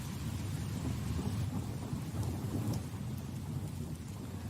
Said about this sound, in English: I want like rain ambiance this time